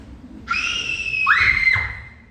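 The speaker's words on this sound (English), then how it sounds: "Someone screamed!" Someone screams during a staged haunted-manor theatre play. The cry is a loud, shrill, wavering shriek that rises and sustains for over a second before trailing off, with no talk over it.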